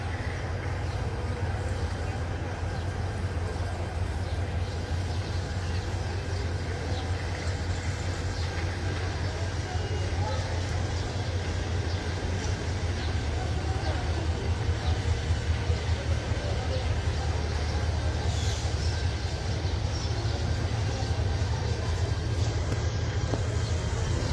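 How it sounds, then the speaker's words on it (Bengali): A train pulls in toward a platform at Kamalapur railway station in Dhaka, a continuous heavy low rumble that builds slightly over the span, with station bustle in the background. "এখন কিন্তু সেই 8 নাম্বার প্ল্যাটফর্মের দিকে একটি ট্রেন আসছে"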